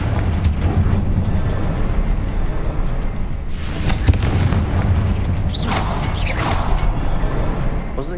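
Confringo fire spell in Hogwarts Legacy: heavy, continuous booming blasts and rumbling explosions fill the scene with sharp crackles and whooshing streaks layered on top, loud and close, with no voices heard.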